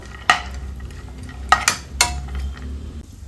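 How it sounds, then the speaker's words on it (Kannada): Chopped almonds frying in a pan for a chandrakala and suryakala sweet: a low steady sizzle broken by three or four crisp clacks of a spoon scraping and stirring against the pan. "ಬಾದಾಮ್ ಸೇರಿಸ್ಕೊಳ್ಳೋಣ ನೀಟಾಗಿ ಫ್ರೈ ಮಾಡಿಕೊಂಡು"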